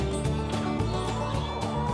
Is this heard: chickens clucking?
yes